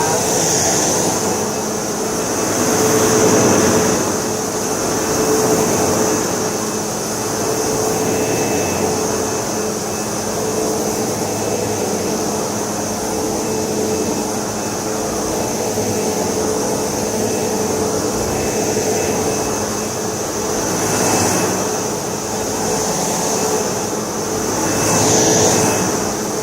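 A Sebo Automatic X4 upright vacuum cleaner runs steadily with a continuous whirring motor drone and airflow hiss. The level swells slightly now and then as it is pushed across the floor, with no voices over it.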